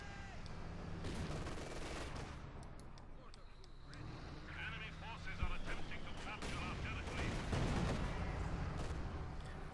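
Gunfire and a rifle grenade strike on a Pak 40 anti-tank gun in the World War II strategy game Company of Heroes 2, with dense bursts and booms running throughout under a talking commentator.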